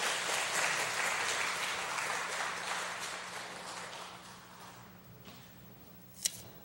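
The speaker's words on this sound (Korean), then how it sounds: "박수 한번 쳐주세요." Applause from a church congregation during a Sunday service, steady at first and gradually thinning out, ending with a single sharp clap.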